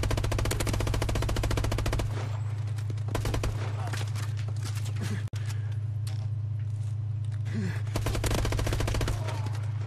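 Rapid automatic gunfire in a Call of Duty Advanced Warfare team deathmatch on the Retreat map, dense bursts of shots that pause briefly and then resume, loud and close, over a steady low game hum.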